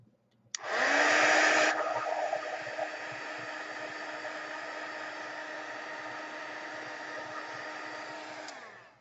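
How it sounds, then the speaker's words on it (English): A heat tool blasts hot air over Archival Vermilion ink on artwork, switching on with a sudden loud whoosh and holding a steady, close, breathy roar for several seconds before cutting off. "I'm heat setting that because I don't want that ink to spread"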